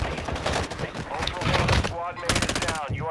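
Rapid machine-gun bursts from Call of Duty: Modern Warfare II, loud and dense, firing at the player in several rattling volleys with brief pauses between them.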